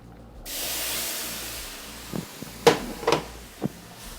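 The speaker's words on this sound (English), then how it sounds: "Add in a touch of milk." Milk poured into hot butter and flour roux for lobster mac and cheese, a sudden steady hiss of sizzling that slowly fades, followed by several sharp clinks of a utensil against the pan.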